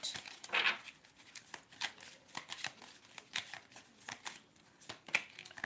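A tarot card deck being shuffled close up, with quick, papery riffles and soft flicks repeating in an uneven rhythm. The sound is faint and intimate, and no voice is heard.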